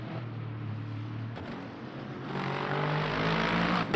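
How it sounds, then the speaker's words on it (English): Race car engine in the Le Mans Ultimate racing game at Monza, a steady droning engine note that swells louder in the second half, slightly gassy and buzzy with no talk over it. "We got that engine note going now. Yeah, it's a little gassy sounding."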